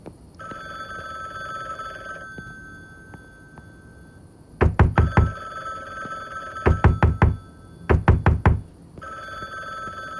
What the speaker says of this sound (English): There is a phone. We can hear it. But I think it's in our house.